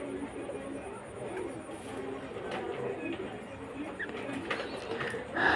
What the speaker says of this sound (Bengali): সারাদিন শুধু মনে করেন কিচির মিচির কিচির মিচির করে ডাকতেই থাকে